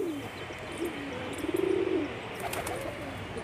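A pigeon sitting nearby gives a short, soft coo against a low background hum.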